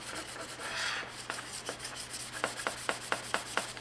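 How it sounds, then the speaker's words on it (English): Wet sanding a plastic 1/350 scale Enterprise refit model kit with 600 grit paper: close, soft rubbing that turns into a series of regular back-and-forth scrubbing strokes, with no voices. "we're using this 600 to get rid of any sanding scratches or marks that might be on that"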